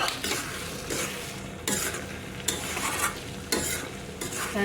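Kharising peanut curry in a pan gets fresh coriander leaves stirred through it, with repeated scraping strokes roughly every second over a soft background sizzle.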